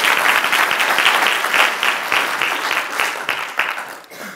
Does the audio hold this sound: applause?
yes